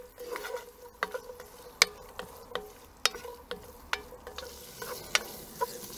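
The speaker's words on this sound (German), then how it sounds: "Die Mohrrüben braten wir uns 2-3 Minuten an bei gelegentlichem Wenden." Carrots frying in oil in a Dutch oven, with a steady soft sizzle broken by sharp clacks and scrapes of stirring at irregular intervals, close and moderately loud with no talking.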